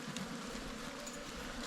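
A winter hive packed with honey bees gives off a steady, dense buzzing hum, close and continuous throughout with no talking.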